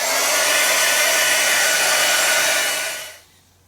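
A hair dryer blows loudly and steadily at close range while drying parts of a steampunk time traveler detection unit build, then switches off and winds down near the end.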